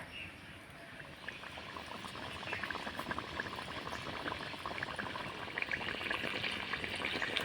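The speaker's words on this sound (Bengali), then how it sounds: "এবার আমি তেলের মধ্যে ছেড়ে দেব। আর কিছুক্ষণ পরে দেখবেন খুব সুন্দরভাবে তেল থেকে কিন্তু ফুলে আসবে পোয়া পিঠেটা।" Mung dal poa pitha fry in hot oil over medium heat, a dense bubbling sizzle that builds slightly and stays even, close by and fairly quiet, with no talk.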